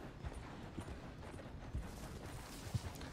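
Soft, sparse horse hoof clops on the ground in Red Dead Redemption 2, a few irregular steps spaced apart under a low ambient hum.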